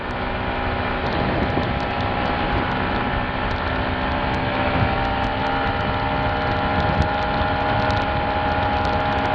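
A Yamaha MT-125 motorcycle engine holds a steady, continuous drone while the bike leans through a road corner, loud and close with no talk.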